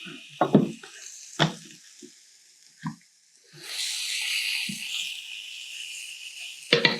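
Bone marrow butter hits a hot pan with mushrooms, onion and garlic, breaking into a steady hiss of sizzling fat after some scattered clinks and knocks of utensils.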